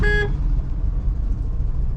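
A car horn gives one short toot at the start while driving on a busy road, followed by the low rumble of the moving vehicle and traffic.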